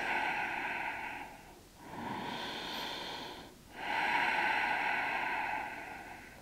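Slow, deep yoga breaths during a held pose, two long airy breath cycles with brief pauses between, close and steady with no talking.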